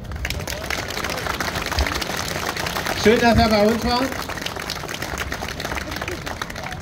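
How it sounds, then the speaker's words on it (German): Applause and crowd murmur at an outdoor rally closing a vehicle convoy in Forst (Lausitz), fairly steady clapping under a speaking voice with a brief swell in the middle. "Nochmal einen herzlichen Applaus"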